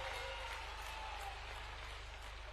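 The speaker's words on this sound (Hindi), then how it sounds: "एक बार जोरदार तालियों से पुनः हमारे गृह मंत्री का अभिनंदन करें" A large crowd applauds Home Minister Amit Shah at a party workers' gathering in the Khajuraho constituency. The clapping is dense, continuous and distant, forming a steady rain-like wash with no voices on top.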